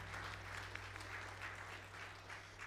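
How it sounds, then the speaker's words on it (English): Church congregation gives a warm round of applause, heard faint and distant as an even wash of clapping over a steady electrical hum. "I'd just like to give them a warm round of applause real quick."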